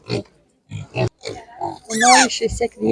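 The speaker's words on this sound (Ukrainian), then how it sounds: "Такі поросята." Several short snorting grunts from piglets at a Ukrainian animal market in quick bursts, then a longer squealing grunt, close by with brief gaps between.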